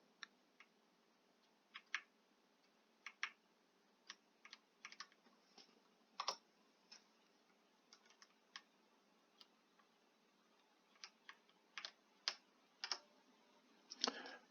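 Arrow keys clicked one at a time on a computer keyboard, sharp, quiet taps spaced irregularly with short pauses between them and a few quick double presses, with no voices.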